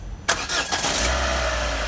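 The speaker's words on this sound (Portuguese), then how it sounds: "E você liga de novo o carro sem a correia" A Citroën C4 1.6 16v engine with its timing belt removed cranks and starts with a sudden loud burst. It then settles into a steady, rough running drone, close and alone with no voices.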